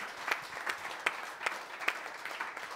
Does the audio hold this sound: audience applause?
yes